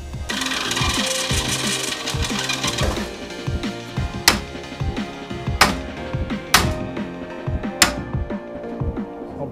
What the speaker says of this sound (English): might as well fill in some of these spare accessory holes with a couple rivets